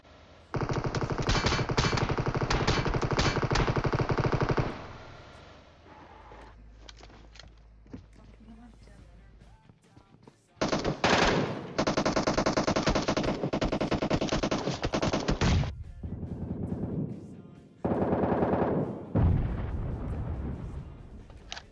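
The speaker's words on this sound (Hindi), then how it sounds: "बंदा गोली चला रहा है" Gunfire in the battle game PUBG: loud bursts of rapid automatic fire in long stretches, separated by quieter gaps with a few scattered shots and footsteps, with a player talking over the action.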